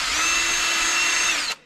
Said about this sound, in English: I couldn't find my wire brush, so I'm going to use this one on the drill.